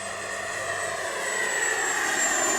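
An FMS Scorpion 90 EDF model jet on 8S power roars at full throttle, a steady high-pitched ducted-fan whine holding loud and constant as it passes and climbs.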